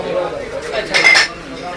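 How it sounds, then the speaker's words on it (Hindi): Steel utensils such as plates, glasses and jugs clink at a market stall in Lahore, giving a brief cluster of bright metallic chinks over a low murmur of background noise. "ये स्टील के बर्तन है"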